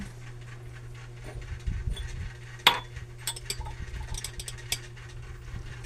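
Drinking glasses clink as they are handled and set down, a few sharp separate taps scattered over several seconds against a low steady hum.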